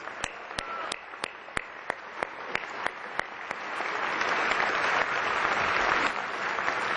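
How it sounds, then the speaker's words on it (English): Applause at the Al Smith Dinner, a New York charity dinner: about a dozen sharp, isolated claps ring out first, then the whole room swells into loud, sustained clapping that carries on to the end. "And I think we all owe Al Smith a great, great round of applause."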